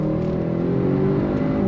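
Audi RS 6 Avant wagon under full throttle, a steady loud engine roar building for under two seconds with no talk over it.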